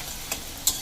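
Ground spices fry in oil in a pan for a Katla fish curry, giving a soft continuous sizzle with two brief bright scraping stirs.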